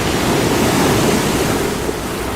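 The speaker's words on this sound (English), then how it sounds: "You can hear the sound of the ocean in the distance," Ocean waves wash and splash steadily in the distance at a quiet, dark vacation house, a continuous soft roar with no voices.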